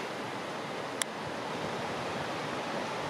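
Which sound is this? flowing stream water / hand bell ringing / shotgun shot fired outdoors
flowing stream water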